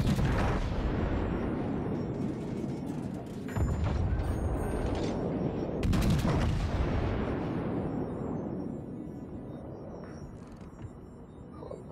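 Heavy naval guns fire in the World of Warships game, with a few deep booming salvos, the loudest near the middle, rolling into long rumbling tails over a mechanical background.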